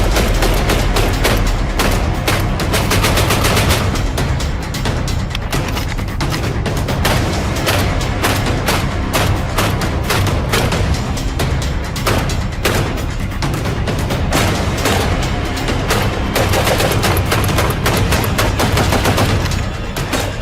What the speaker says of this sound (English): This speed demon is the all-new Mossberg 940JM Pro, and it not only cycles ultra quickly and cleanly